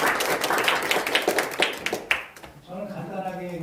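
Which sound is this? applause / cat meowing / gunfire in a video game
applause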